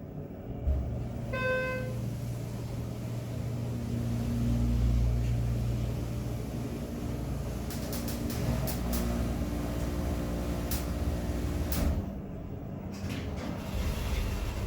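A Schindler 330A hydraulic elevator riding up, with a steady low motor hum and drone throughout, a brief chime near the start and a few clicks and clunks later on.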